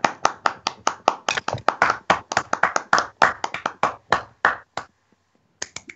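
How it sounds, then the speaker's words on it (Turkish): A small group applauding during an awards segment for a wrestling show, close and loud uneven hand claps in a quick stream that stops abruptly, followed by a brief silence and a few final claps. "Kendisini alkışlıyoruz."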